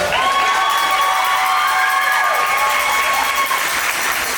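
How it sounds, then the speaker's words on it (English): A crowd cheers and claps at a girls' basketball tournament game between the Woodlawn Lady Panthers and the Liberty Lady Patriots. The noise is loud, steady and sustained throughout, with no speech over it. "Let's give her a round of applause."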